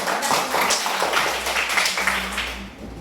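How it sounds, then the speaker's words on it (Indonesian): A class of schoolchildren claps together in a classroom, a short, loose patter of small hands close by, fairly soft and fading toward the end. "Beri tepuk tangan dulu"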